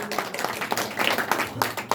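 Audience applause at a neighborhood association launch ceremony in Seongbuk, a short burst of scattered clapping mixed with crowd noise.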